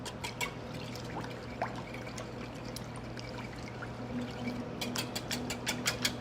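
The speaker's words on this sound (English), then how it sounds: "Let's go ahead and whisk this up together." A whisk beats a hoe cake batter of cornmeal, flour, eggs, buttermilk, water and a little sugar in a bowl, giving rapid rhythmic ticking and sloshing strokes, close and fairly quiet, with no talk.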